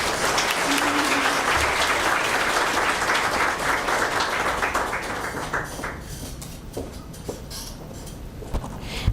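Audience applause follows a speech at a Ministry of Education breast cancer conference, with loud, dense clapping that gradually thins into scattered individual claps toward the end.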